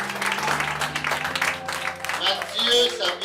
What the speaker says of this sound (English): clap your hands so much for God